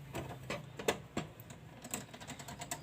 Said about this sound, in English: So I am tightening the screw.